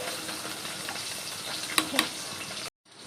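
Fish fries in a home kitchen pan with a steady, close sizzle, broken by two sharp clinks of a utensil on the pan before the sound cuts off abruptly.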